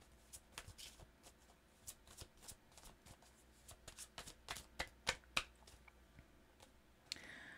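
Tarot cards being shuffled by hand in a quiet room: a run of soft riffling slaps and crisp card clicks in uneven bursts, building to a few sharper snaps near the end, with no talk.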